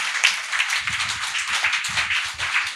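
A gathering at a spiritual meditation talk claps in thanks, a room of hands beating in a fairly brisk, uneven patter that stays steady and moderately loud with no voices.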